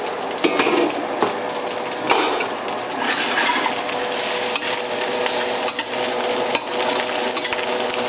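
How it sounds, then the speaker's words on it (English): Scallions and onions fry in sausage fat for fried rice, giving a steady, close sizzle broken by sharp clacks of a utensil stirring and scraping the pan. "this is going to not only cook our vegetables, but it'll make it taste really good too, because we're cooking it in the sausage fat"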